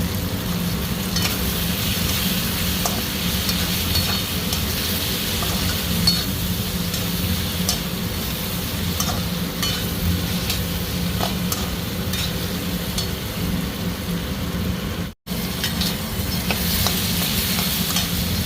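Cumin, coriander powder and black pepper powder sizzle steadily in a pan for a chana and palak dish while a spoon stirs and scrapes, with occasional light clinks against the metal.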